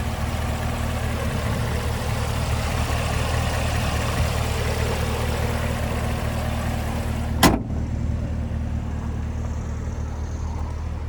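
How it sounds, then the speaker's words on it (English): The supercharged V8 of a 2024 Chevrolet Camaro ZL1 convertible idles with the hood open, a loud, steady, deep rumble that holds evenly throughout, broken by a single brief click or knock near the end. "there's that supercharged V8"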